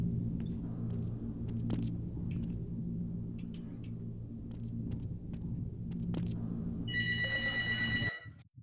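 A loud telephone or intercom in the game Half-Life rings near the end with bright, rapid, repeating trills. A heavy, steady rumble and scattered clicks run underneath.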